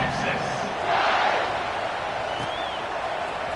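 A large football stadium crowd roars in a broad, steady wash of cheering before a kickoff, swelling slightly at moments, with a commentator's voice talking over the noise.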